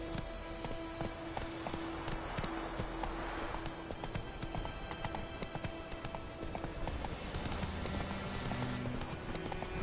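Horse hooves clip-clop steadily on the ground in The Witcher 3: Wild Hunt video game, a brisk, continuous rhythmic patter over a bed of in-game music and ambience.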